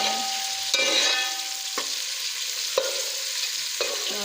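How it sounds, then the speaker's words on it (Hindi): Chopped onions frying in hot oil for rice pulao, a steady close sizzle with a few sharp scraping stirs of a spoon against the pan spaced about a second apart. "प्याज को ब्राउन होने तक हम इसे पकने देंगे।"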